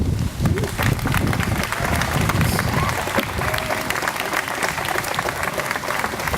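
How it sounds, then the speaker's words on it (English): Graduates applaud their parents at a 2016 Moses Brown School commencement: broad, steady crowd clapping that fills the whole stretch, with a low rumble of wind or microphone noise under it. "I want you to give them a round of applause"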